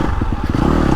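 KTM 350 Factory Edition four-stroke off-road bike engine pulling in a low gear, loud and close, with a rapid chugging pulse and some clatter as it settles into a steady drone.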